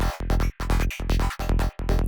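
A bright FM synth lead plays a choppy, rapidly gated arpeggio sequenced by a Midicake ARP arpeggiator in a groovy psytrance pattern, loud and rhythmic with short gaps between bursts.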